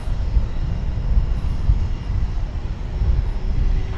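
A passenger jet, flight 1272 bound for San Diego, takes off at DFW Airport: a steady, deep engine roar with broadband rushing noise that holds level throughout, with no talk.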